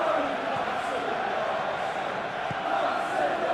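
A stadium crowd in a PES football video game gives off a steady, dense roar for the whole stretch, with faint cheering under a commentator's voice.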